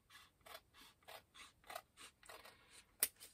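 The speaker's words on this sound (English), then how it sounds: "What I'll do, I'll trim along the edge of here" Scissors snip through paper while trimming the edge of a journal pocket, a quiet series of about ten short cuts in an uneven rhythm, close by, with a sharper click near the end.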